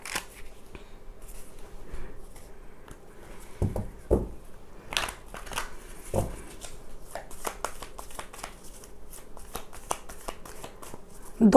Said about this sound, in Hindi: दो कार्ड्स निकालूंगी मैं इस डेक से।